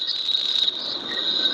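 Cicadas give a steady, shrill, continuous buzz that holds at an even level throughout, with no voices over it.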